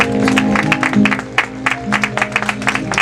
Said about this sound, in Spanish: Hay un fuerte aplauso al Espíritu Santo en esta hora.